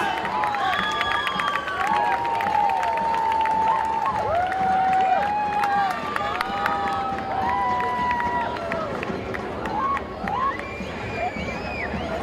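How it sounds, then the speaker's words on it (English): At a Youth Week show for a youth band, a crowd cheers and applauds, with continuous clapping mixed with rising whoops, whistles and excited shouting voices. "Cheer more, people. Cheer more."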